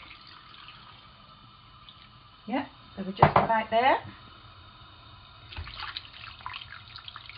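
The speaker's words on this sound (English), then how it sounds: "now you just want to add enough water so you can just cover the chicken" Water poured into a pot over raw chicken pieces in a home kitchen, a short splashing burst then a trickle, with a person speaking briefly over it.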